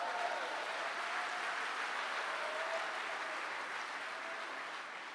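A church congregation applauds to acclaim the Lord: sustained, even clapping from many hands, moderately distant, tapering slightly toward the end, with no talk over it.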